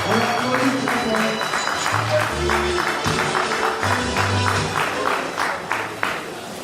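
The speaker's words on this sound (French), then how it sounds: "On applaudit très fort le président." Continuous crowd applause at a celebration for retired mothers in Côte d'Ivoire, loud and steady, with tonal music or chanting running beneath the clapping.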